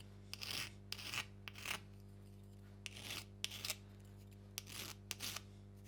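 Hand file rasping along the sharp edges of a metal part, with about eight short, separate scraping strokes in an uneven rhythm, close and crisp over a steady low electrical hum.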